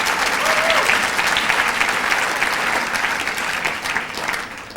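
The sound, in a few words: audience applause at gala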